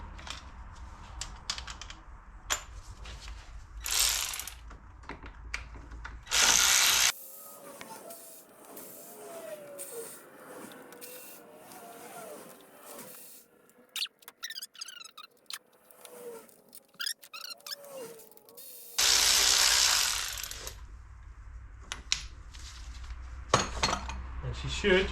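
A ratchet works loose the 10 mm bolts on the Vanos unit housing of a BMW E38's M52TU engine, giving bursts of metallic clicking and clattering close by, with someone talking through the middle stretch.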